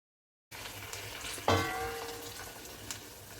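Cut bitter gourd pieces hit hot oil in a pan, a sudden loud sizzling burst after a short silence that settles into a steady, softer frying hiss with faint crackles.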